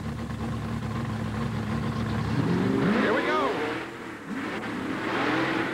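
Monster trucks, the Toy and the Boss, rev their engines at the start of a 1988 USHRA round in Anaheim, California, with a steady idle rumble breaking into sharp rising revs, close and loud, with an announcer talking over it.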